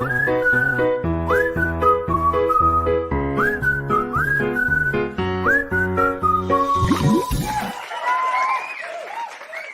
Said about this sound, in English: nice to hear the whistling again, isn't it